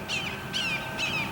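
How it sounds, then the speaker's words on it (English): An adult hawk calls three times in quick succession, each a harsh, descending screech that sounds fairly close and stands clearly above a quiet outdoor background. "That's a grown-up hawk."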